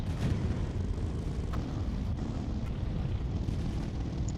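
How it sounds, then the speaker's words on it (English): Tanks firing in the tank-combat game Sprocket, heard as a dense, steady low rumble of cannon fire and engines with a few faint sharp reports, continuous with no talk. "And they're firing."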